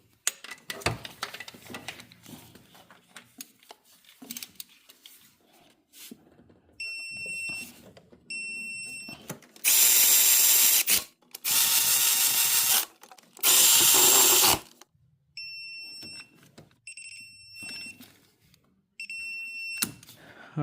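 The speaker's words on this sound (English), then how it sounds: "we're just gonna tighten it up with the digital torque wrench, the bottom first, and then the one on the top is next" A digital torque wrench tightens alternator bolts on a 2005-or-later Chevy Optra, with sparse ratchet clicks, repeated electronic beeps as it reaches spec, and three loud, harsh bursts in the middle.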